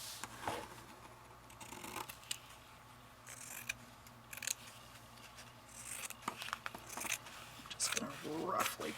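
Scissors roughly cut out a piece of a mini journal project, giving a string of crisp snips and scraping paper sounds at close range, growing busier toward the end.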